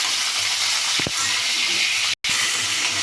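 Green chilies frying in oil for lemon pulihora make a loud, close, continuous sizzle and hiss, with a short dropout partway through.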